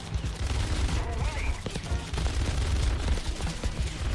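An F-82E aircraft's machine guns fire in War Thunder air battles, a sustained rattling burst under a low engine drone, fairly loud and continuous.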